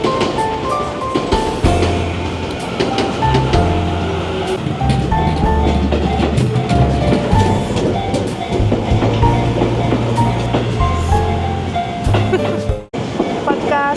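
Train ride in Japan, with a steady low rumble and rattling of the carriage in motion, clicking and squealing metallic sounds over it, and a brief dip near the end.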